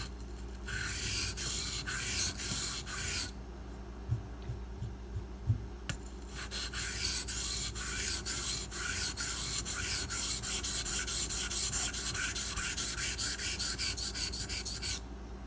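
A Ganzo FH51 knife blade is drawn over a sharpening stone on a Razor Edge angle guide, making close, rhythmic rasping strokes in two bursts separated by a brief pause, each stroke a crisp scrape.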